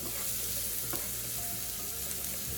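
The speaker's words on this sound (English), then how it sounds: "Just occasionally stir your vegetables in" Onions, garlic and other vegetables sizzle in a pan while being stirred, a dense, continuous close frying hiss with no talk.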